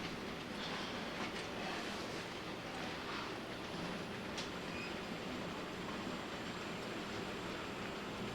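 A model New York Central freight train rumbles steadily along a layout track with a continuous rolling clatter and occasional light clicks, nearby and unbroken.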